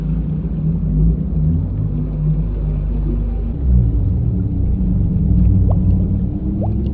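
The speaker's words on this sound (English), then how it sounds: "The sounds of whales and giant creatures don't depend on any biome or the ocean" Low whale and giant sea-creature calls in Minecraft, heard in a water-filled hole in the End dimension, a deep steady rumble with drawn-out moaning tones and a couple of faint rising cries, no talk.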